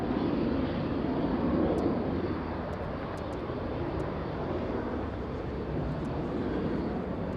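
A United Boeing 757 with Rolls-Royce RB211 engines at Los Angeles International Airport gives a steady, broad jet rumble at middling distance, fading slightly partway through, with no talk.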